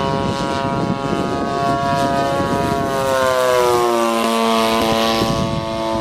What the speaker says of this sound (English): 35cc gasoline engine